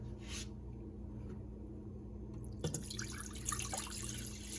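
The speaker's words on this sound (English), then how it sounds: "pour it in our pot" After a quiet start, chicken stock starts pouring into a pot with a soft, splashy trickle that continues to the end.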